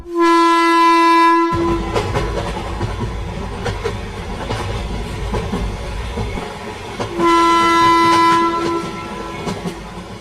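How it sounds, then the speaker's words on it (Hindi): A train sounds a long, loud horn, then starts rolling with rumbling and rhythmic clicking of the wheels, and a second horn blast follows near the end. "ये लोग ये सोच ही रहे थे कि तभी ट्रेन शुरू हो जाती है।"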